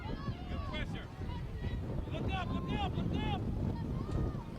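Wind gusts across the Lancaster National Soccer Center during a girls' under-14 match, a continuous low buffeting rush on the microphone, with a commentator's voice on top throughout.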